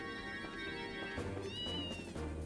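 A cat meows in Trails in the Sky, a few short, clear mews over steady game music and ambience, close and moderately loud with no talk.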